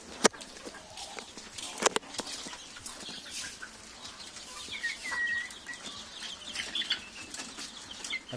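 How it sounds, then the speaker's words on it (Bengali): Broiler chickens cluck and call in a busy poultry farm with three-tier cages, with sharp wing flaps and scattered rustling throughout. "দেখেন ফার্মি মুরগিগুলো"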